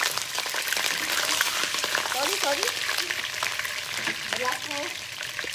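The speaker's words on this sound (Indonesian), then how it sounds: "Memang kena goreng udang dahulu." Prawns sizzle and spit in a hot pan while being fried for kueh teow goreng, a dense continuous crackle with stirring scrapes, and a voice speaks briefly over it.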